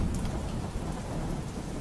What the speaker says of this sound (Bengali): এই যে যেমন আজকে বৃষ্টি হচ্ছে